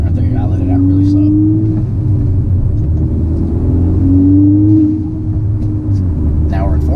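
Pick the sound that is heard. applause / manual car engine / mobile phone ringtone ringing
manual car engine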